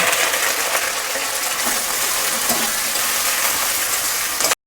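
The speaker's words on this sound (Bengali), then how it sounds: "আমি ওই তেলেতেই চিংড়ি মাছগুলোকে ভেজে নেব।" Loud, steady sizzling of prawns frying in hot oil, a constant hiss that fills the whole stretch up close, with no voices.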